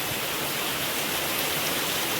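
Heavy morning rain pours down loudly and steadily as a dense, unbroken hiss with no pauses.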